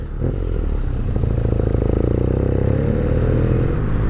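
A 2019 BMW R nine T motorcycle rides slowly through tight city streets, its engine a loud, close, steady low rumble with a pulsing throb and no talk over it.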